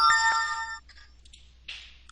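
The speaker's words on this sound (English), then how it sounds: "The patient will receive a phone call." A phone call rings through a telehealth platform on a computer, a bright electronic ring tone with steady harmonic tones for the first stretch, then softer chimes and a short burst near the end, with no talking.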